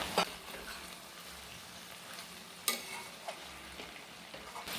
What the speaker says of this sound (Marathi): आता एकदा परत झाकण काढून आपण हे ढवळूया